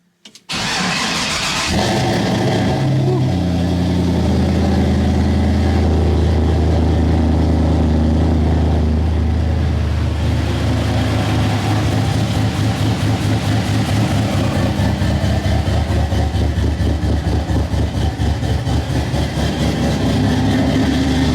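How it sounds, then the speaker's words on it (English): A 1952 GMC truck engine cranks, catches and roars to life inside an enclosed garage, then settles into a loud, steady, deep-throated idle that rumbles close by for the rest of the time. "I'm at least gonna fire this thing up so you guys can hear it."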